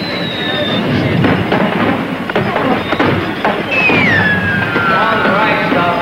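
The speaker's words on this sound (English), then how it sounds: "it'll signal the start of the fireworks" Fireworks boom and crackle at a 1970 Disneyland show, with whistling rockets gliding down in pitch over a dense, loud, continuous roar of bursts.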